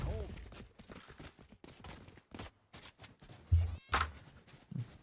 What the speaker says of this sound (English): they're going to be up against a barrage of a couple of pistols